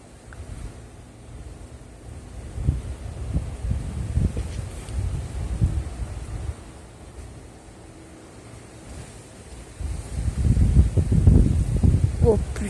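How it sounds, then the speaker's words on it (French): Violent wind gusts of 94 km/h in Nîmes buffet the microphone in deep roaring surges that swell, ease off and then build again, louder, toward the end. "Je mets tout mon poids et j'ai du mal à résister au vent."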